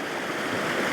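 Small waterfall on a mountain stream, a steady close wash of rushing, splashing water with no breaks.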